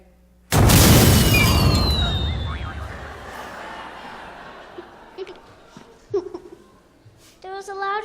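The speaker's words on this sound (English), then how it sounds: "There was a loud explosion near the pyrotechnics area." A loud explosion bursts near a theatre pyrotechnics area during a staged play, a sudden broadband boom that decays over several seconds into rumbling debris, followed by scattered knocks and a voice.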